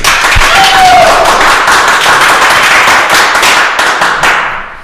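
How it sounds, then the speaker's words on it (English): A crowd breaks into steady applause, dense clapping sustained throughout before thinning slightly at the end. "You notice that I got a round of applause from the audience."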